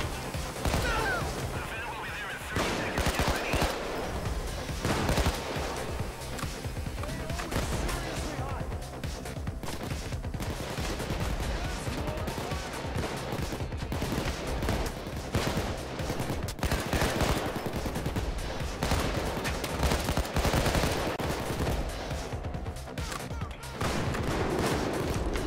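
Sustained, dense gunfire from a Payday 2 heist: rapid overlapping shots and bursts pour out almost without pause for the full stretch, loud and close, with voices talking underneath the shooting.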